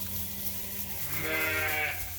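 A Suffolk ram lamb in a farm pen lets out one clear, wavering bleat close by, rising out of steady background noise with other sheep murmuring low around it.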